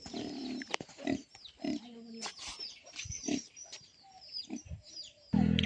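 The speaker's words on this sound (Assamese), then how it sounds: "এইপিনে এটা চাওকচোন গাহৰি এটা চৰি আছে চাওক" A pig roams and forages in a rural Assamese village, giving repeated short grunts and snorts at close range amid faint birdsong and outdoor ambience, with brief speech.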